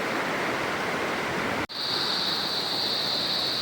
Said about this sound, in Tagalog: tumatawid si Joben sa sapa